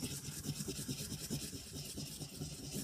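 A deodorant stick rubbed in continuous circles over a sheet of paper on a tabletop makes a soft, steady, rhythmic scratchy rasp, close and quiet.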